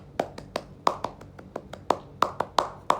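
Rhythmic hand clapping in the Indonesian scout Tepuk Pramuka pattern, made of about a dozen sharp, close claps in short grouped bursts with uneven spacing.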